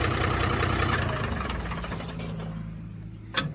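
A diesel tractor engine idles with a steady low rumble close by, fading slightly before a brief sharp click near the end.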